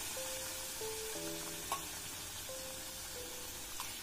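Milk poured into dry-roasted semolina in a hot pan produces a soft, steady sizzle, faint and continuous, with a few brief clinks and faint tones in the background.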